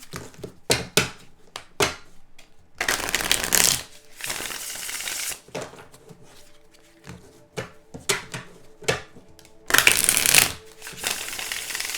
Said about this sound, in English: I don't know why I'm shuffling so much here